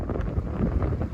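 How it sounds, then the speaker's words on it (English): Strong gusty wind blows beside Lake George in Katy, Texas. It roars and buffets the microphone in a constant loud low rumble, and nothing else can be heard. "It's extremely windy today."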